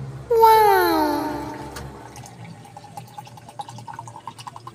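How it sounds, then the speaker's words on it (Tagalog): Water poured into a barley grass drink, a bright rising gurgle of liquid filling a cup that starts abruptly, then tapers into faint drips and small splashes. "Lagyan natin ng tubig."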